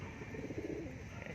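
Pigeons coo softly in a small mini loft, low rolling coos rising and falling over a faint steady background, no voices present.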